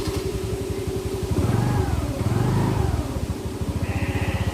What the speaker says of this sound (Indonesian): Sekarang kita coba hidupkan. Cara menghidupkannya seperti skutik Honda.